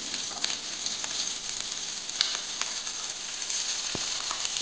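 Tomatoes frying in hot oil in a pan, a steady close hiss and crackle of sizzling that holds evenly throughout, with a few small pops and clinks and no talking.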